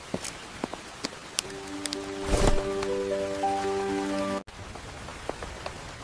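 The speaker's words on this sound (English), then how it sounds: "The rain is starting." Rain begins falling on a city sidewalk, a steady pattering hiss with scattered drops, overlaid by sustained musical tones that cut off abruptly before the rain continues alone.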